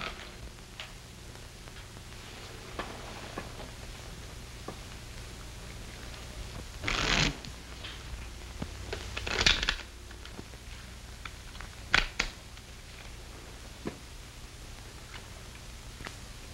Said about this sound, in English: Shuffle and deal.